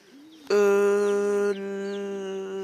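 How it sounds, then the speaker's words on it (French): A rooster crows loudly and close by, a long sustained harmonic call lasting about two seconds, with faint bird chirps in the background. "Très très beau, c'est un coq."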